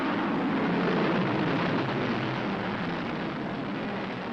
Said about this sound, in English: down below for the test firing of her Polaris missiles